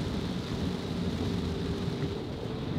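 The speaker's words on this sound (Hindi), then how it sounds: "जबरदस्त तेज बारिश हो रही है।" Heavy rain pours steadily over a parked car during a drive near Dungarpur, a dense continuous roar with low rumbling thunder underneath, loud and close throughout with no talking.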